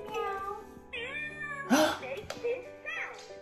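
A cartoon cat meows from a children's tablet toy, a couple of electronic meows close up, with a person speaking over and between them.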